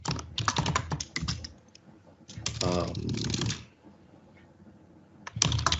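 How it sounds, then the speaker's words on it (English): Rapid clicking keystrokes on a mechanical keyboard come in dense bursts with pauses between them, close and fairly loud, while someone talks in between. "The keyboard typing, I have got a mechanical keyboard"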